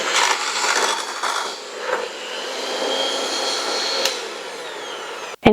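An electric mixer whirs steadily through vegan lemon buttercream frosting with a loud, continuous high whine. A few knocks of the beaters against the bowl come through before it cuts off abruptly near the end.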